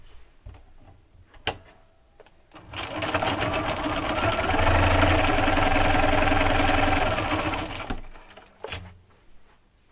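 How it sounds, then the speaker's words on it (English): A domestic sewing machine runs steadily for about five seconds, joining two quilt blocks, with a whirring motor and fast needle clatter; brief clicks and handling noises come before and after it. "I'm going to sew those 2 together."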